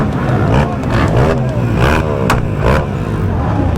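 Motorcycles line up at Mergellina in Naples, their engines revving loudly and continuously with rising and falling pitch. Several bikes seem to overlap close by, and faint voices mix in.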